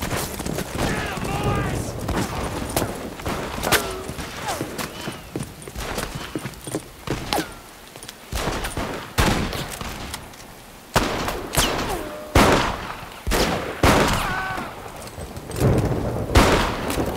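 Shootout in Red Dead Redemption, sharp gunshots cracking irregularly through the scene alongside horse hoof clip-clops, moderately loud, with voices speaking between shots.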